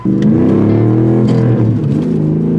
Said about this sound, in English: I'm ready to go fire up my Camaro Z28